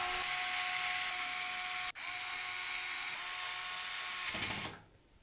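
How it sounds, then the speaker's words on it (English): An electric screwdriver drives motherboard screws into a Thermaltake CTE C700 Air PC case, a steady high whine running about four seconds with a brief break near the middle, then stopping abruptly. "we're going to secure it into place with 9 of the screws"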